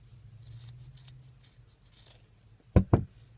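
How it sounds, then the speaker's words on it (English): Two quick, close snips of scissors cutting through loops of chunky blanket yarn on a big crocheted Christmas stocking, following a stretch of faint soft rustling. "And then I just take this end and I just cut all those loops."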